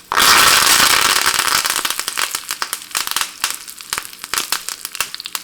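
Curry leaves and dried red chilies hit hot coconut oil with fenugreek and mustard seeds for kalan curry, bursting into a loud sputtering sizzle that settles into dense, irregular crackles and pops.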